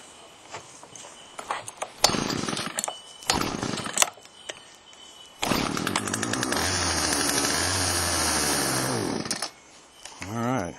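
Chainsaw after an ice storm being pulled and cranked, a few sputtering starts and clunks, then the engine catches and runs roughly at idle for several seconds before cutting out, close by.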